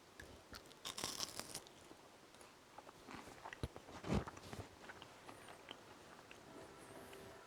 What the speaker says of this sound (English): I don't know if the microphone can pick up that it's nice and crunchy.